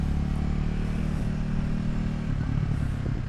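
A Triumph Scrambler 400 motorcycle runs close by with a steady engine drone that grows rougher and more uneven toward the end, with no voices.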